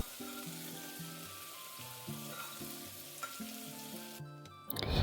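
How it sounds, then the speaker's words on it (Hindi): Chopped tomatoes and onions sizzle in a hot pan, a steady frying crackle beneath faint tonal background music, with a louder burst of noise at the very end. "बस वही थोड़ा सा सॉफ्ट हो जाए हमारे टमाटर और प्याज, इतना देर तक इसे पकाएंगे।"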